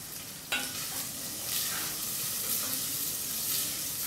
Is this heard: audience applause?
no